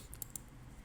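Keys tapped on a computer keyboard while entering a spreadsheet formula in Excel, three quick faint clicks in the first half, then only a quiet room hum.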